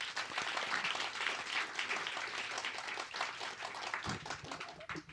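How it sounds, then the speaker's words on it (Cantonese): Audience applause at the 28th ifva Awards presentation ceremony, given for the film crew called up on stage, a dense sustained clapping that stays loud throughout and tapers near the end. "想俾啲掌聲佢哋"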